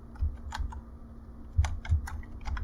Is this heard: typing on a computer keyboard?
yes